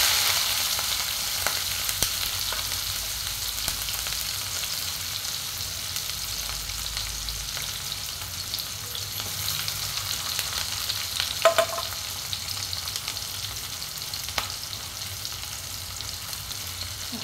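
Onions with mustard seeds, cumin and garlic frying in oil for a mung dal dish, a steady soft sizzle with a few faint scraping taps, close and fairly quiet throughout without talk.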